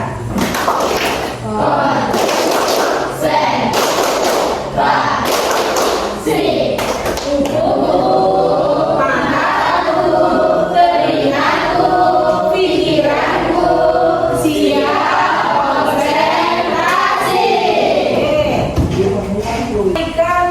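A standing classroom of students performs the tepuk konsentrasi, a rhythmic clapping chant, with bursts of claps alternating with chanted voices in a patterned beat, loud and close, in a religious-education lesson.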